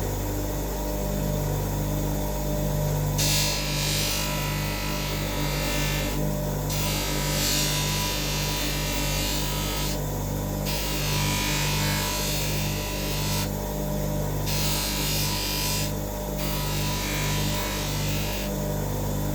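Rhythmic rasping strokes of sanding on a wooden knife handle come in regular bursts over a constant mechanical hum.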